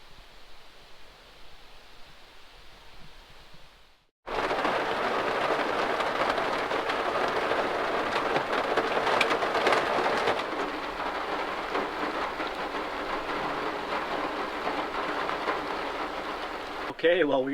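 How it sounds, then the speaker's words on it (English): Heavy rain pours down at a campsite in Canada, a dense, loud, steady roar that starts abruptly after a quieter stretch and continues without letup. No thunder cracks stand out, and no one talks. "It rained all night and it's starting to come down good now."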